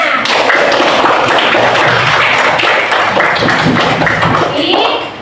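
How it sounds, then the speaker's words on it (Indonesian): A classroom of students claps together after finishing a cutting task, a dense, steady patter of many hands at close range that holds for about five seconds before stopping abruptly. "kasih tepuk tangan untuk kita semuanya"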